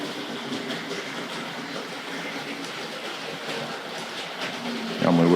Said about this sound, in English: Tank Locomotive is now sped off.